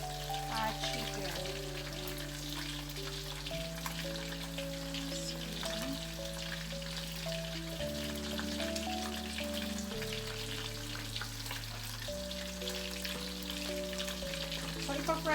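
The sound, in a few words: chicken frying in oil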